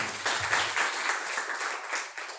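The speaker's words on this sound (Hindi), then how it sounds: "बहुत बढ़िया, जोरदार तालियां निकलेंगे।" Steady audience applause at a voter-awareness talk, moderately loud and even for a couple of seconds, with little talk over it.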